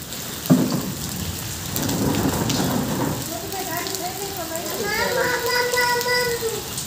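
A hailstorm with heavy rain pounds clay roof tiles in a loud, steady roar with a sharp impact near the start, while voices talk and call out over the downpour in the later half.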